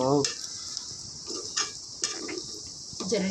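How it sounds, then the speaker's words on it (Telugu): Chicken fry is mixed in a pan with a spoon, producing a few distinct metallic scrapes and clanks at irregular intervals over a faint sizzle, with brief speech at the start and end. "చూడండి ఇక్కడ ఇలా కలుపుతున్నాను"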